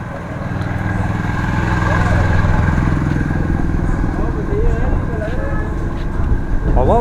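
Motorcycles and engine traffic rumble along a street in the beach town of Mahahual, Mexico, a loud steady drone with a passing rise, heard beneath talking voices.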